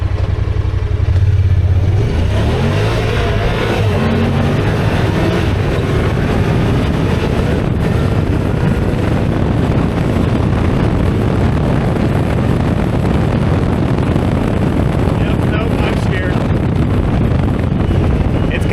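A cheap auction side-by-side UTV runs fast over gravel at around 53 mph, a loud, continuous roar of engine, rattle and wind buffeting filling the whole stretch.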